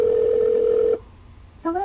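Ringing tone of an outgoing call through a BMW Bluetooth hands-free system, a loud steady electronic tone that stops, then after a short pause starts again with a warbling ring.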